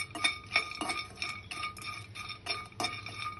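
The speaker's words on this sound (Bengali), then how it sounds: "আমি লইট্টা শুটকিগুলো একটা কড়াইতে টেলে নিব" Dried loitta fish tipped into a metal wok, giving a run of clinks, scrapes and rattles in uneven bursts, close and moderately loud.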